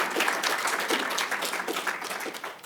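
Applause from an audience at an English Night event as an award recipient walks forward, dense and steady clapping throughout, fairly close and continuous.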